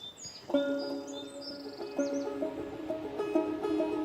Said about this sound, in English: I'm gonna say they dubbed in the birds